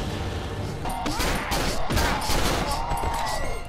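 Gunfire in the horror game Cry of Fear: several sharp shots in quick succession, loud and close, with impacts and clattering around them.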